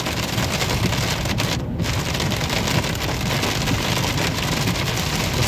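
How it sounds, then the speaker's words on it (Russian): Heavy thunderstorm rain hammers a car driving on the highway at about 80 km/h, a dense, steady roar of drops on the roof and glass that holds loud and unbroken throughout. "Какая гроза сейчас будет, какой дождик."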